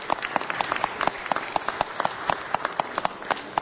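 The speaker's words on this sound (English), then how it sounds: "Please give a round of applause to our visitors from the Nicaraguan American community." Scattered applause at a city budget hearing: a modest crowd claps in a fairly thin, uneven patter, individual hand claps audible in the room.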